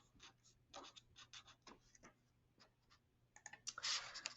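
A name being handwritten onto a hand-drawn map, with soft, irregular scratchy pen strokes in short bursts that grow louder and denser toward the end, with no talking.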